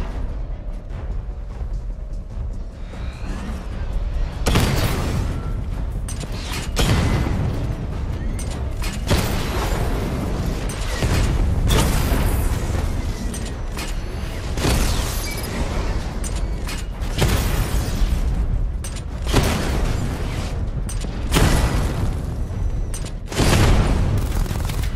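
Repeated missile barrage blasts in Batman: Arkham Knight, a dense series of loud booms and rumbling explosions rolling one after another with mechanical clanks, building into a heavy, near, continuous bombardment.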